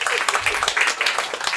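Audience applause at a live German stand-up comedy show, a dense spell of clapping with some voices mixed in.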